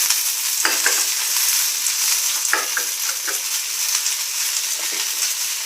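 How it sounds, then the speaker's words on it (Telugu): Gongura leaves sizzle steadily in a hot pan while being stirred, with a continuous bright frying hiss and several short scraping strokes of the spoon, close and fairly loud, no talking. "గోంగూర వేస్తున్నానండి."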